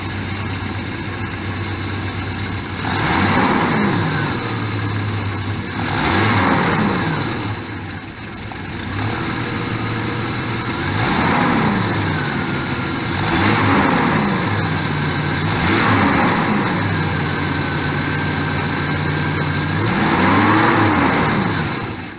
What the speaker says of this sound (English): But this is what it does when I rev it.